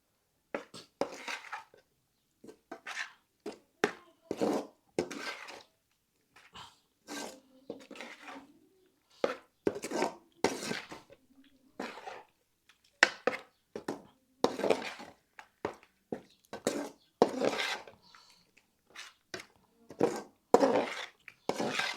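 Tomato chutney (pachadi) being stirred in a bowl with a spoon, giving repeated short scraping and clinking strokes at an uneven pace. The sound is close and moderately loud, with no voice over it.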